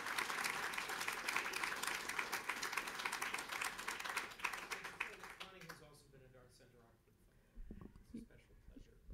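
Audience applause at an awards celebration fills the first half with dense, steady clapping, then thins and tapers off into quieter scattered claps and room noise before a low thump near the end.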